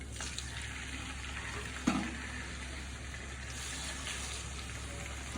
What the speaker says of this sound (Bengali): আমি এখন এর ভিতরে চিকেনগুলো ভেজে নেব।